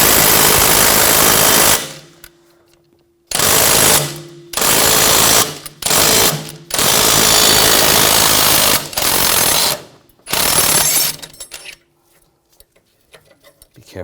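A power tool on an 18mm socket removes a control arm bolt on a 2007–2013 BMW X5 3.0L, firing in loud, close, rattling bursts of a second or two, separated by short silences.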